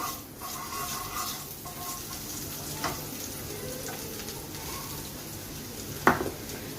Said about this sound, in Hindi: जैसे ही हमारा बटर मेल्ट होगा हम इसमें अपना ये जो हमने हरे प्याज और हरी मिर्च डाली थी ये हम डाल देंगे।